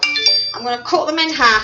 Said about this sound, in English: That's my phone that's binging, please ignore it.